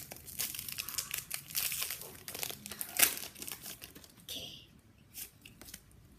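A Pokemon Trading Card Game booster pack wrapper is torn open and crinkled close up, with a steady run of crackling plastic and a sharp rip in the middle before the rustling tapers off.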